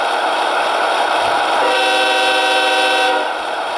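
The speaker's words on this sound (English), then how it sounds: "So of course we got the E-bell, Longhorn, and that horn sounds amazing." An Athearn Genesis ES44AC model locomotive sounds its horn, a loud multi-tone blast lasting under two seconds over a steady hiss of background sound.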